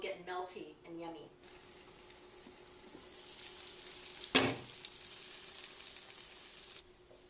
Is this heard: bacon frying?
yes